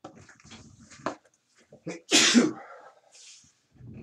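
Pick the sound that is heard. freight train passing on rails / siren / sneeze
sneeze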